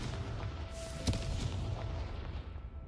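A Confringo blasting spell goes off in Hogwarts Legacy as a single sharp boom rising out of a steady, rumbling game background.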